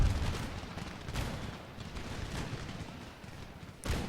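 Musket volleys ring out in the Empire Total War battle game, a rolling, dense crackle of massed shots with a sharp, louder burst near the end, no voices.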